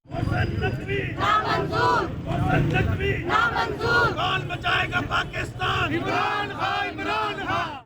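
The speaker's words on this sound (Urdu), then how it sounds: "کارکنوں نے شدید نعرے بازی کی" PTI party workers chant slogans in a loud, rhythmic crowd protest outside a provincial election commission office, voices rising and falling in repeated bursts close by.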